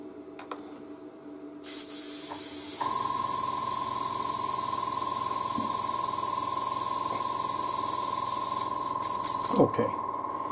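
An airbrush runs off a compressor, spraying paint thinned one part to three parts thinner, and gives a steady close hiss with a constant tone for most of the time alongside faint background noise.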